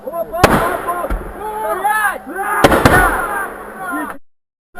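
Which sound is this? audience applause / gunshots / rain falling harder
gunshots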